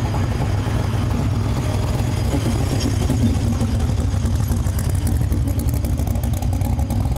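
A race car engine runs on a hub dyno, tuned for pump gas, and holds a loud, steady, low-pitched roar for the whole stretch. A fast rhythmic clatter pulses through it until it cuts off abruptly at the very end.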